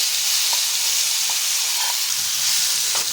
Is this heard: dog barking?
no